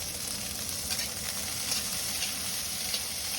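Curry leaves hitting hot oil in a pan while cooking a Marathi cauliflower curry, a dense, steady close sizzle with light crackles, heard alone.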